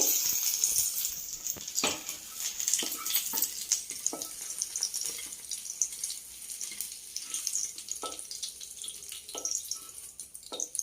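Green chillies frying in a pan crackle with a continuous close sizzle, broken by occasional sharper pops and stirring scrapes, with no talking.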